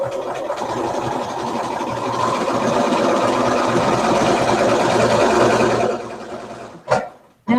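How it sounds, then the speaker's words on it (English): A home sewing machine runs steadily at close range, its needle and feed dogs stitching a quilt four-patch seam with a continuous humming whir for about six seconds before stopping, followed by a brief bump of handling. "your needle and your feed dogs will just cinch that right in to make a good 4-patch"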